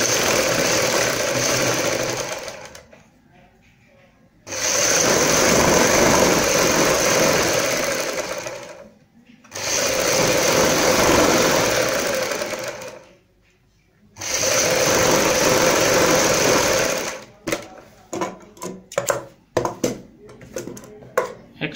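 A sewing machine stitches the side seam of a salwar hem in three long continuous runs separated by short pauses, then finishes with a string of brief stop-start bursts.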